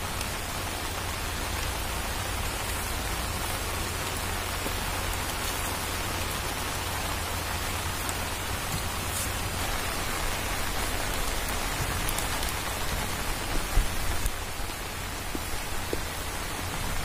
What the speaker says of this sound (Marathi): इकडे बघा मस्तपैकी पाऊस सुद्धा आलाय